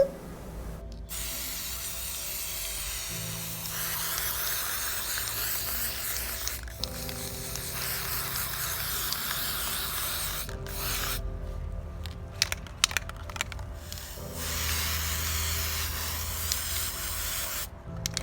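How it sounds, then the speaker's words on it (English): Spray paint hisses from a can while signs are painted, in long continuous bursts with brief pauses between, close and steady. "I was spray painting the signs"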